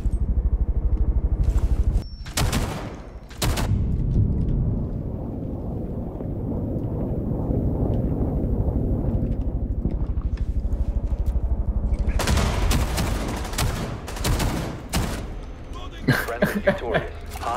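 Gunfire in Rainbow Six Siege, with sharp shots early, then a quieter stretch where a voice talks, followed by rapid bursts of fire and a few final cracks.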